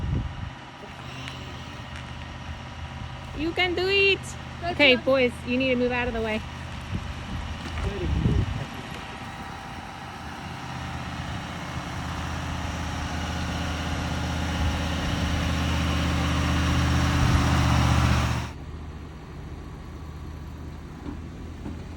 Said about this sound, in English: Can you hear how hard the truck is trying?